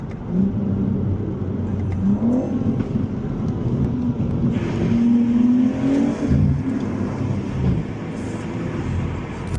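A BMW M3 Touring's engine revs hard on a drive through Croatia, a loud, continuous snarl with pitch climbing and falling through the gears.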